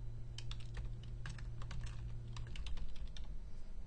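Steady run of computer keyboard keystrokes as a file path is typed, quick irregular clicks close by over a constant low electrical hum.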